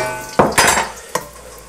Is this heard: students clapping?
no